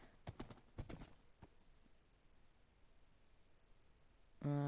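Hooves clop a few times in quick pairs from a horse in a survival video game, followed by a quiet stretch and a sudden tonal game sound at the end.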